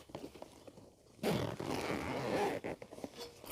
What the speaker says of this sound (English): This Velcro thing here pops back out.